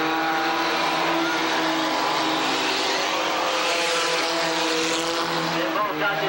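Race cars lapping Tonopah Speedway in 1989, a loud continuous engine roar with revving and a sweep as cars pass, heard from trackside.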